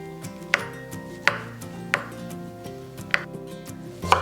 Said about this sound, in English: Cut it into a 1/2 inch thick.